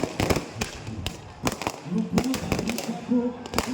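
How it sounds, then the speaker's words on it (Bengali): Fireworks go off during a month-long football festival celebration: a series of sharp, irregular bangs and crackles, several close together, over a busy crowd background with voices. "আতশবাজি"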